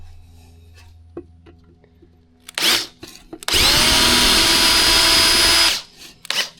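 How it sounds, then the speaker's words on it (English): A power drill bores through the head of a rivet on an engine oil pan, starting with a short whir, then a loud, sustained high-pitched grinding whine lasting about two seconds, followed by a brief final burst at close range. "Got the head of that rivet off."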